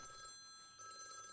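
A telephone bell rings faintly in an indoor room, a steady electronic ring that pauses briefly and resumes, with no talk over it.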